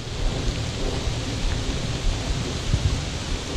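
Pouring rain drums steadily and loudly around a small fishing boat, a dense, continuous hiss and patter with low rumbling underneath and no voices.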